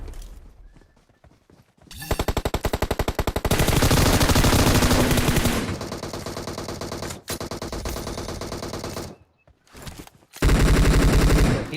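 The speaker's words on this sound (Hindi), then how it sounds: "ये M249 वाला बंदा गोली चला कहाँ पे रहा था" Sustained bursts of M249 light machine gun fire in the PUBG Mobile battle game, loud and close, coming in long rapid strings with brief pauses between volleys.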